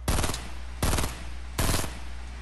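Gunfire in a battle royale game: three evenly spaced bursts of rapid automatic shots, loud and close, with a steady low hum between them.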